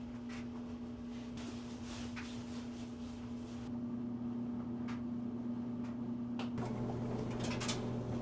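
A washing machine spins a load of t-shirts with a steady low mechanical hum, a constant motor drone under scattered clicks and knocks throughout.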